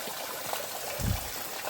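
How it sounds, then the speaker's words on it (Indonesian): Water trickles out from between the ground beside a forest path in Indonesia, making a steady, soft babbling stream of noise with a brief gurgle, close by and with no voices. "Air ini dia keluar dari sela-sela tanah."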